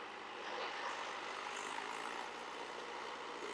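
A Mahindra tractor stuck in the mud, its diesel engine labouring in a steady low drone that swells slightly as it strains, heard fairly faint and without talk.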